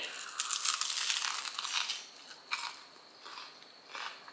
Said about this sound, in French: je vais manger mon petit sandwich déjeuner